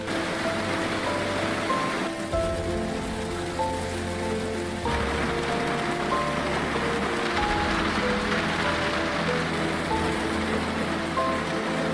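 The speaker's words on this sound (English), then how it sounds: "No sign of this rain stopping." Constant rain pouring in a sim racing game during a wet Super Formula Lights session, a dense, unbroken hiss layered over background music and low rumbling tones.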